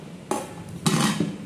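Chopped bottle gourd is dropped into a metal pressure cooker, giving two clattering knocks against the pot with a faint scrape between them, close by.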